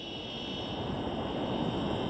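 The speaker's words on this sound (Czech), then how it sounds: "Zase letím takhle krokem směrem k sobě s tím dronem" A Syma X25 Pro drone flies nearby, its rotors giving a continuous, steady buzzing whine with no pauses or talk.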